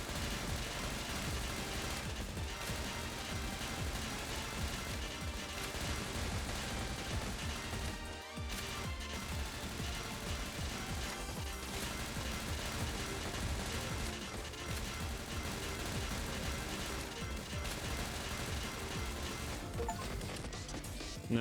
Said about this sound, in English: I forget that I have the multi-missile launcher sometimes.